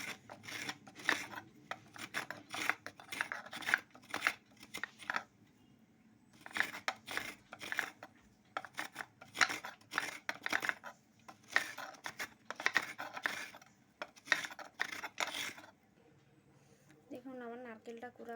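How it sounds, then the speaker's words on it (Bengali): Coconut being scraped by hand, a close rhythmic rasping in repeated bursts of quick strokes with short pauses between, with a brief voice at the very end. "আমি নারকেলটাকে এইভাবে কুড়ে নেব।"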